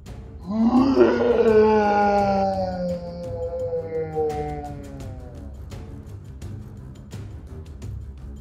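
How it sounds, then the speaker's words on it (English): A mighty dragon roar rises into a long, loud, howling bellow, then slowly trails off over several seconds, with faint clicks and rustles continuing afterward. "hear a mighty dragon roar"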